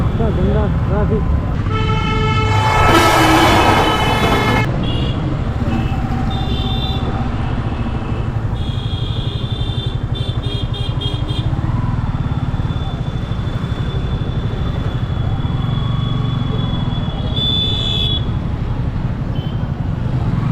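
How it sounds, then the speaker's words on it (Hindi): Heavy road traffic in India, with a long, loud car horn blast early on and shorter honks scattered later over a constant close engine drone. A voice talks over the noise. "हाँ, इतना गंदा ट्रैफिक।"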